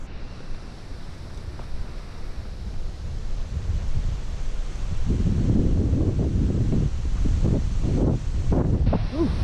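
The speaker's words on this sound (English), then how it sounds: "Windy." Strong wind gusts across a mountain trail near an aspen meadow on Boulder Mountain, a steady broadband roar that swells louder and rougher halfway through, buffeting close to the microphone with no one talking.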